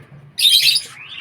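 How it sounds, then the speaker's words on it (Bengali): A pet cockatiel, kept in a cage with other birds and fed rice, gives one sharp, close chirp that rises and then trails off, with faint low background noise before it. "এখানে দেখো দুটো ককটেল আছে, এদেরকেও ভাত খেতে দিলাম।"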